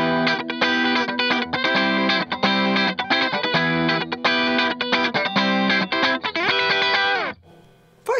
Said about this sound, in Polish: Mamy lekki przesterek.